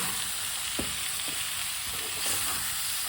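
Potatoes frying in a pan while a spoon stirs them: a steady, dense sizzle throughout with a few soft scraping knocks from the spoon, close and even, no talking.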